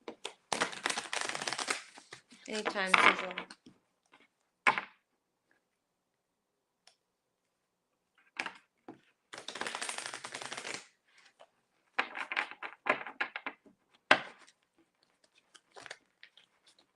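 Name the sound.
shuffling tarot cards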